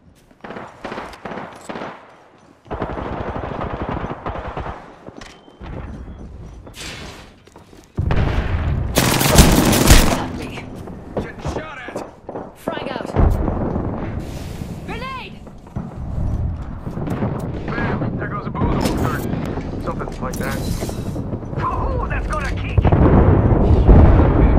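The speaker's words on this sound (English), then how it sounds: "Shots fired." Gunfire in the Apex Legends video game comes in loud bursts and rapid volleys, close and intense, with quieter gaps between.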